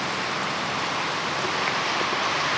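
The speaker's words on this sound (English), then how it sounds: "it is chucking it down. Still raining." Heavy, steady rain pours down continuously after about two days of non-stop downpour, a dense, even hiss filling the whole moment without any talk.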